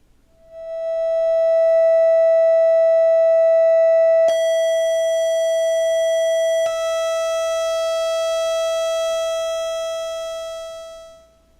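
Steady electronic tone from a Buchla Music Easel oscillator set to square or triangle waves, a bright buzzy pitch rich in even harmonics that holds alone and unbroken, with two sharp clicks as the timbre shifts slightly brighter.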